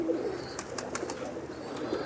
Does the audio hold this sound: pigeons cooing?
yes